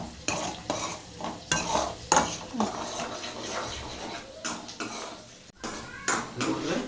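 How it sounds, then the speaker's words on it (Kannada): Cashews for kaju korma fry in a pan while a spoon stirs and scrapes them in repeated bursts over a soft sizzle, with a voice speaking in between. "ಮಸ್ತ್ ಫ್ರೈ ಆಗಕತ್ತ. ಹಾಗೆ ತಿರುಗಾಡ್ಬೇಕು, ಹತ್ತು ಬಿಡ್ತಾ ಇಲ್ಲಂದ್ರೆ."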